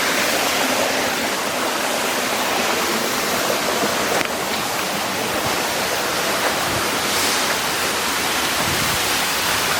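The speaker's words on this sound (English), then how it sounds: "the first waterfall led to an even bigger waterfall" A large jungle waterfall in Costa Rica roars as a dense, constant rush of falling water, loud and close, steady throughout with no talk.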